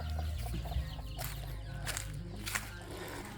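Chickens cluck softly on a farm, with a few brief clucks over a steady low background hum.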